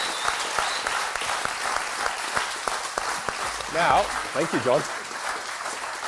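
Audience applause at a Startup Grind startup event in Bali, a steady wash of clapping filling the room while a host speaks over it.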